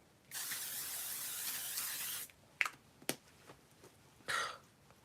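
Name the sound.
makeup setting spray being sprayed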